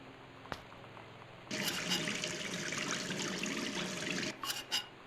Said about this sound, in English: Just a faucet.